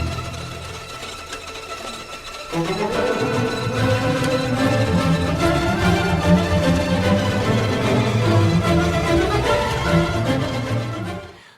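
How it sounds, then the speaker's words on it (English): An orchestra plays a dense, lively passage in which violins strike the strings with the wood of their bows, producing brittle tapping clicks over sustained tones; it starts quieter, then swells. "the violins in the orchestra play with the backs of their bows, which is to say the wooden part"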